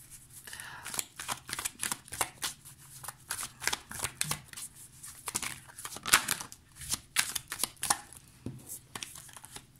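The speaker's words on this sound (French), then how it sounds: "je vais mettre un tarot par-dessus" Tarot cards are laid down and shuffled one over another, making repeated crisp flicks and soft slaps in an irregular rhythm close up, with a voice speaking in between.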